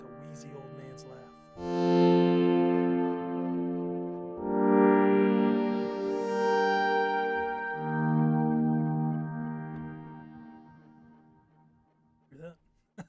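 Novation Summit synth patch holding swelling sustained notes with a wheezy, laugh-like modulation in the background, rising and fading in soft waves before tailing off; a faint voice appears briefly at the end.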